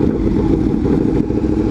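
Ducati 959 sport motorcycle with an aftermarket exhaust at a powersports bike night, giving a loud, close, steady low-pitched engine roar that runs unbroken through the whole short stretch.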